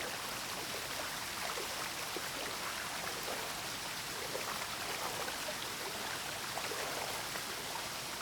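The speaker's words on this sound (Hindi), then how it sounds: "देखते हैं झरने के पास क्या हुआ है यहाँ पे। हाँ सर, आवाज तो आ रही है" A dangerous waterfall in the outdoors gives off a steady, dense rush of falling water, a constant broadband roar with no pauses and no voices over it.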